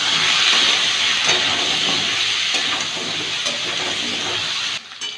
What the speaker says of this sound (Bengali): একটু সর্ষের তেল দিচ্ছি। আলুগুলো ভেজে নেব।